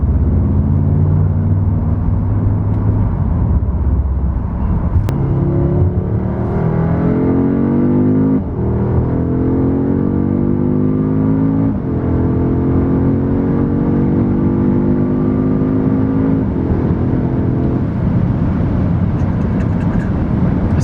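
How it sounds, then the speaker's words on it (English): A 2021 Audi S3 engine drones loudly and continuously, pitch climbing through the gears in repeated rising sweeps as the car accelerates, heard from inside. "Engine noise, a little bit beefier"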